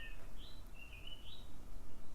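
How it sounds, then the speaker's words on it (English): Birds chirp and sing outdoors in a few faint, brief high calls with short gaps between them, over a quiet background with no talking. "So grateful for the beautiful birds here at this new place."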